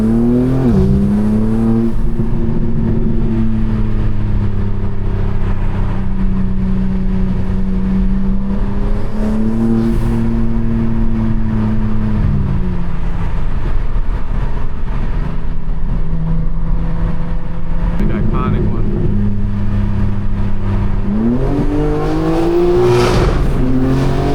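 A BMW M4 Competition with a loud exhaust revs hard toward redline, heard from inside the car as a steady, loud engine drone that rises and falls through repeated acceleration pulls, with no talking.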